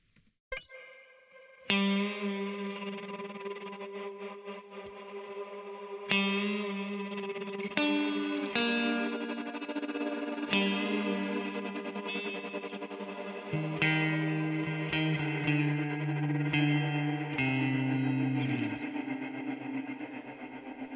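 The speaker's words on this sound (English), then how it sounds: "let's take a listen to this electric guitar and then let's discuss it" Electric guitar chords ring out one after another, heavily processed with a shimmering, wavering, effected tone that lingers and swells.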